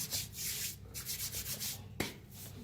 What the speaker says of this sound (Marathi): हे पहा असं कापून घ्यायचं